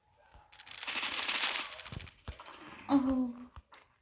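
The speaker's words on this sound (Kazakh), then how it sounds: "Мен басқа мылтықпен атам." Rapid bursts of automatic gunfire from the mobile shooter game Standoff 2 rattle for a couple of seconds, followed by a few separate single shots, with no voices.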